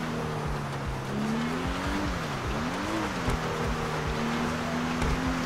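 A car climbing a hill off-road in the video game GTA 5, its engine droning steadily with pitch rising and falling as it strains, tires scrabbling and squealing on rough ground, close and continuous throughout.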